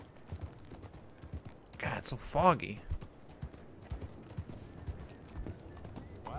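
Horse hooves clip-clopping in Red Dead Redemption 2, a rapid galloping rhythm of soft thuds throughout, with a brief whinny partway through and someone talking over it.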